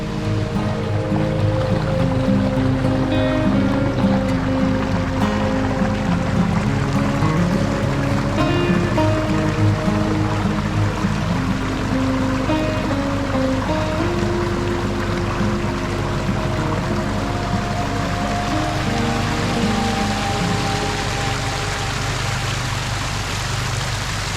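Water pours steadily into a tank that is being half filled for watering a veggie garden, giving a continuous loud rushing splash that holds unbroken throughout with no talk over it.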